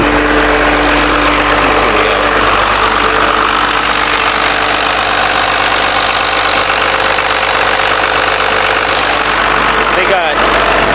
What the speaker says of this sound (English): They got a diesel engine here.